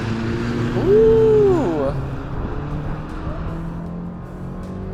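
A Chevy 2.7 TurboMAX engine is taken to full throttle, its rising engine drone heard from inside the cabin under a brief exclamation, then a steady moderate hum as the run continues.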